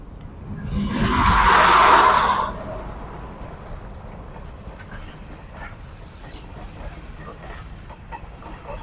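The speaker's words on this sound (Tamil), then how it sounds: "பாருங்க, ட்ரெயின் ஒரு பக்கம் போற நேரம்" A train rumbles past nearby a beach in Colombo, Sri Lanka at night, swelling to a loud roar with squealing wheels before fading into a quieter steady rattle and distant noise.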